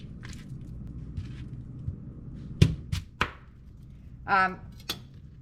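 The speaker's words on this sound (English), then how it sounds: "Gonna do the same thing with the onion. I'm just gonna give it a good old a rough chop." A knife roughly chopping an onion on a board, with a few separate sharp cuts spaced over several seconds, fairly close and moderately loud, alongside a brief clattering rattle.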